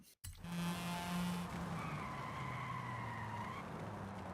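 Tires skid and squeal as the brakes lock up on a race car in a racing video game, a sustained screech over engine drone lasting several seconds after a brief dropout.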